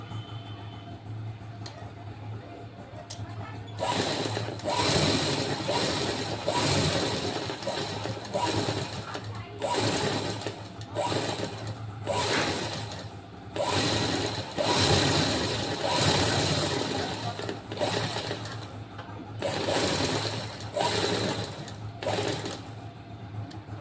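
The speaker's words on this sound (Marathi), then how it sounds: "आता ह्याला पण आपण डबल एक शिलाई करून घेऊया" A sewing machine double-stitches the seam of a prince cut blouse, whirring loudly in repeated runs of several seconds each, separated by brief pauses over a low steady hum.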